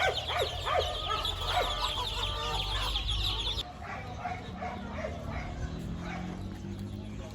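Chickens cluck and chicks peep busily nearby at an outdoor market, a crowded chorus of poultry calls; the scene shifts partway through to quieter, more distant chirping.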